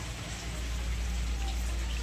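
Steady rain falls in a constant hiss of drops on surfaces, with no break in the patter.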